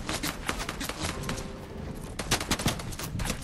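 Rapid bursts of gunfire in Fortnite crackle in quick succession, a dense fusillade of close shots that pauses briefly midway before resuming with sharper, louder cracks.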